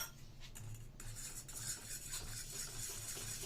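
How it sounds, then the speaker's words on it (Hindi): A spoon stirs a homemade beauty soap mixture with a powder just added, giving soft scraping and light clinking against the container, quiet and close with no talking. "ये हो गए 4 चम्मच भर के इसको मिक्स करेंगे हम"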